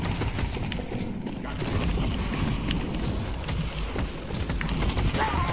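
Video game gunfire rattles in dense, overlapping bursts through the whole stretch, loud and continuous with scattered sharper shots over a busy background of in-game noise.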